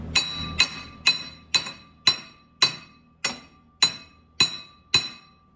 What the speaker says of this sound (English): This piece of stud's about to get hammered.